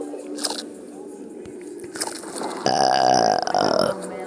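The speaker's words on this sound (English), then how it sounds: "I can't stop burping." Cartoonish burping in the video game War of Evolution, several belches in a row with a long, loud, gurgling burp near the end, mixed with game sound effects and a voice in the background.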